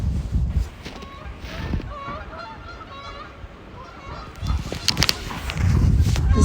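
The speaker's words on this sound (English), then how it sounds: "There's some geese flying over right now." Wild geese honk repeatedly as a flock flies over mountain wildlife country near Snowmass, their calls carrying from a middle distance with gusty outdoor rumble before and after.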